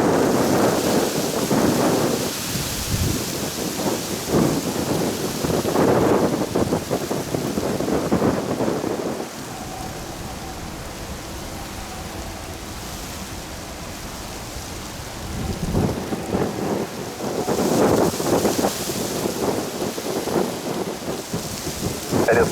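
Strong gusty wind at an Amsterdam Schiphol runway roars loud and unbroken as broadband rushing noise, swelling in heavy gusts and easing to a steadier rumble in the middle before building again.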